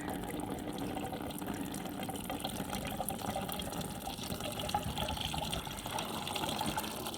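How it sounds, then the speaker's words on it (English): Water gushes and gurgles steadily as it fills and floats something, a continuous close, full-bodied rushing with bubbling texture that barely changes throughout, with no voices. "just going to get a gush of water."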